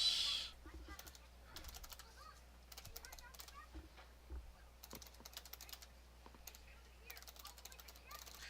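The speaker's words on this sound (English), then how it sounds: "Sorry, I know I shouldn't be typing and talking." Keys clatter on a computer keyboard in quick, irregular bursts, faint and close, typed while someone talks.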